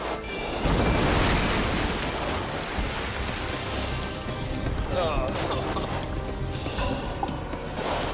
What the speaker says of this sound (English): The surface current and churning waves have knocked the team off target.